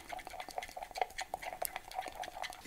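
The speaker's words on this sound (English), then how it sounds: "And then mix it in thoroughly until you get a sort of creamy type consistency." A spoon stirs maple syrup into a dairy-free hot chocolate mixture, giving steady, rhythmic scraping and clinking against the cup, close and fairly quiet, with no talking.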